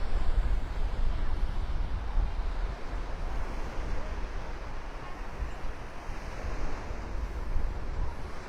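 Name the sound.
wind on a beach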